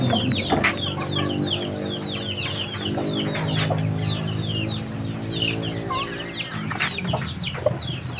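Fighting cocks cluck repeatedly and close by in scattered bursts, over a steady low hum, with no voices.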